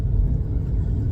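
A 2022 Ford Maverick rolls over road bumps set before road work and gives a low, continuous rumble. It is a short burst of tyre and road noise with no talking.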